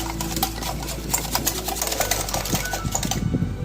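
An electric hand mixer beats a sugar mixture, now with coconut milk and other ingredients added, for a fried bread snack, giving a steady, close, continuous motor whir with a rhythmic rattle throughout.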